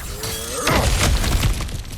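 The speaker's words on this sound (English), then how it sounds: "back to smashing through things for fun and profit" Cracked ground shattering apart as it is smashed through in God of War Ragnarök, a loud burst of breaking rock and debris lasting about a second, trailing into rumbling crumble with ambient game music underneath.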